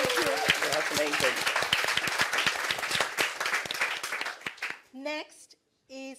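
Applause from a live comedy-show audience in London, dense clapping that fills most of the stretch before thinning out, with brief voices rising near the end.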